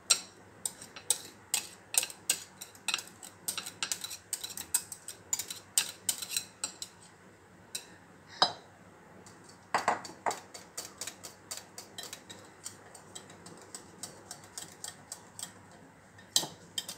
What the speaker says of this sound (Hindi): इसको मैं हल्के हल्का मैं इसको मिक्स करूँगी विस्क से